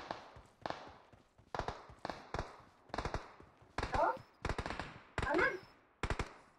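Bursts of PUBG gunfire, sharp single shots and short rapid volleys, fairly close, with brief pauses between them.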